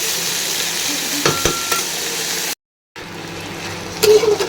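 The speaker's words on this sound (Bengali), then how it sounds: "দিয়ে নাড়াচাড়া করে নিচ্ছি একটুকুনি" Banana stem frying with turmeric and salt in a pan, stirred steadily with a utensil; a continuous close sizzle with scraping strokes, a brief dropout midway, and a louder clatter of stirring near the end.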